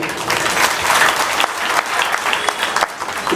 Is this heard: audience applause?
yes